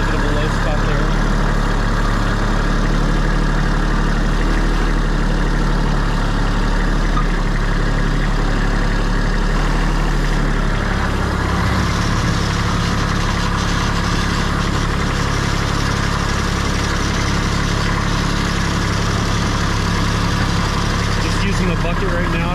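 A tractor engine idles with a steady low rumble while its bucket smooths a flood-damaged driveway, with a louder, rougher stretch about halfway through. A person talks over the engine.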